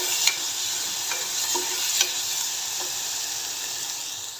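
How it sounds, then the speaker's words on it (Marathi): Tomatoes sauté in oil in a pan with a constant hissing sizzle and a few quick stirring scrapes, close and steady with no voices. "आणि दोन मिनिटभर तेलात परतून घेणार आहे"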